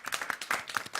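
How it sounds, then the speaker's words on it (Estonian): A small audience claps at a live Estonian hosted game event, a brief burst of loose, uneven handclaps close by, with no talk over it. "Teeme aplausi Taavile."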